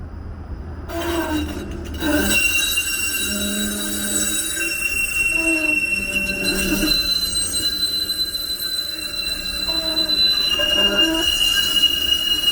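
A TTC streetcar passes through Humber Loop on a January day, its wheels giving a loud, sustained high-pitched squeal over a steady rumble and rail noise for the whole stretch.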